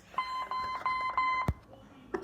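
A LeapFrog Fridge Phonics toy gives a series of short, high electronic beeps in an uneven rhythm, followed by a sharp click and a brief louder tone at the end.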